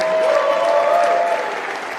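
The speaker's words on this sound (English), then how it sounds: "round of applause to Lucas, please." Steady applause from a crowd at a squash league event in an arena, dense clapping that holds level and then begins to fade slightly.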